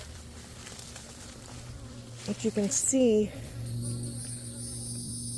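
Bees and beetles inside a beehive during beginner beekeeping give a steady insect buzz under a person talking, with a louder, closer burst of buzzing in the middle.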